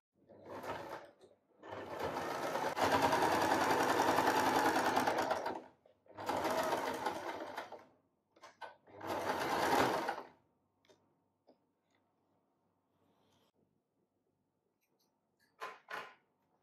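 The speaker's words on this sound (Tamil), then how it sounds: "ரெடி பண்ணி வச்சுருக்கிறத அப்படியே 1/2 inch டிஸ்டன்ஸில் ஸ்டிச் பண்ணி வந்துடலாம்" A sewing machine stitches a churidar shoulder seam in several close bursts of rapid, steady whirring, one long run and shorter runs separated by silences, with faint clicks and a final short burst after a quiet stretch.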